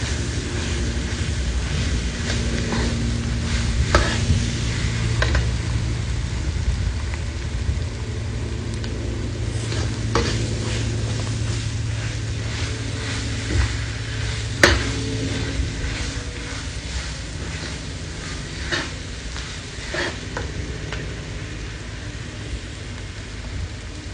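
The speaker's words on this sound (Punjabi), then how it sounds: "ਫਿਰ ਇਸ ਨੂੰ ਚੰਗੀ ਤਰ੍ਹਾਂ ਹਿਲਾਵੋ ਤਾਂ ਕਿ ਮਸਾਲਾ ਆਲੂਆਂ ਵਿੱਚ ਰਲ ਜਾਵੇ" Spiced potato filling for sandwiches sizzles in a pan while being stirred, a continuous close frying hiss broken by soft scrapes and clinks of the spoon, with no speech.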